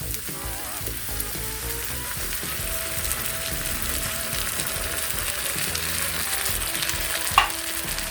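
Sardines fry in hot oil with sautéed ingredients for a miswa and patola dish, a loud, continuous sizzle crackling throughout, with a sharp utensil clack near the end.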